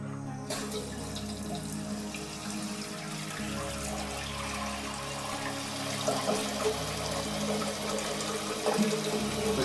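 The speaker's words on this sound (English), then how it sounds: "I'm gonna turn the valve, water valve on," Water rushes steadily into a toilet cistern as it refills after the supply valve is opened on a newly installed rimless, back-to-wall toilet, a continuous close hiss and trickle with no talking.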